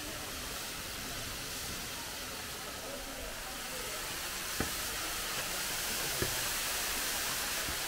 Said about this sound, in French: Et vous avez la cascade juste à côté.